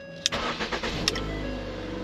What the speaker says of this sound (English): lights came on, car turns on, no problem.